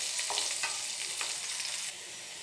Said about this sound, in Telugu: ఇవి కూడా కొంచెం గోల్డెన్ కలర్ వచ్చేదాక ఫ్రై చేయాలి మనం.